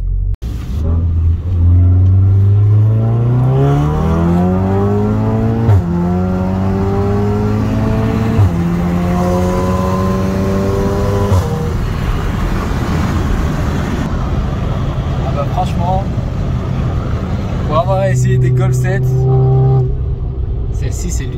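A modified Yamaha R7 motorcycle fitted with NGK racing spark plugs revs hard several times, rising engine pitch sweeps repeating loudly and close, with a final burst of revving near the end.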